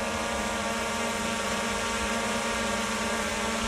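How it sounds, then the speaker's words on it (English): A DJI Mavic Air 2 drone flies nearby with a loud, unbroken buzzing drone of spinning propellers and a stacked, tonal motor whine. There is no talking. "This is the Air 2. What the Air 2 sounds like."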